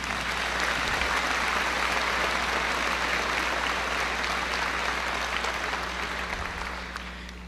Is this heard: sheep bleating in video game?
no